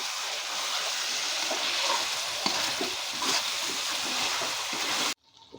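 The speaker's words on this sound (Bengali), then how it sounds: "এবার খুব ভালো করে আবার সবগুলো কষে নিতে হবে একসাথে।" Chicken pieces with ground cumin and ginger paste fry in a pan for chicken kosha, giving a steady hissing sizzle with occasional stirring scrapes before the sound cuts off abruptly.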